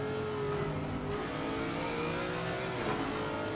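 A Lexus race car in a racing video game, its engine note revving and droning steadily at mid pitch, heard continuously and fairly close with no gaps.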